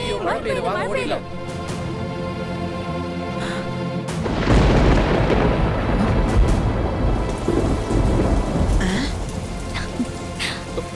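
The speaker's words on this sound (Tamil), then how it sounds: "ஐயோ மழை பெய்யுது, வாங்க ஓடிடலாம்." Heavy rain with a thunderstorm: a loud, dense downpour swells in after a few seconds and continues, with deep rumbling booms of thunder underneath.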